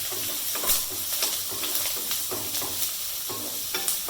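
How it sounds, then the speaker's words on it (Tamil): Onion, chilli and curry leaves sauté in hot oil in a pan, a steady moderate sizzle broken by regular scraping stir strokes, heard close with no voices. "வெங்காயம் போட்டு வதக்கணும்"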